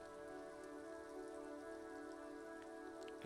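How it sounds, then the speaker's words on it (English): Rain patters steadily onto the roof of a woodshed, a soft, even hiss of drops with a few louder taps, heard alone at low volume. "Rain falls onto the roof of a woodshed."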